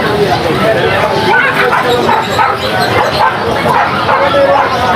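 Dogs bark and yip among caged puppies, including Pomeranians, at the Grotto pet market, coming in short bursts beneath a person talking nearby and a steady crowd babble.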